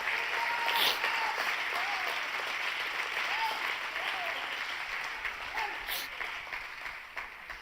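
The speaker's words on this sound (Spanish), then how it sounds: "dale un aplauso si lo recibes" A church congregation breaks into sustained applause during a Spanish-language sermon, the dense clapping filling the room steadily and fading slightly toward the end, with a few faint whistles mixed in.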